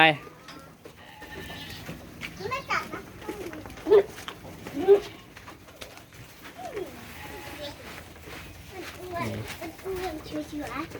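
Goats bleat faintly and intermittently while feeding at evening mealtime, with people and children talking over them nearby.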